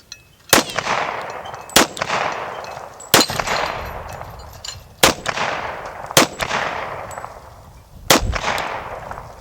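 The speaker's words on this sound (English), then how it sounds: "Pretty smooth shooting 1911." Six loud, sharp shots from a Citadel 1911 .45 ACP pistol fired at steel targets, spaced roughly a second or two apart, each with a ringing metallic tail and echo decaying between rounds.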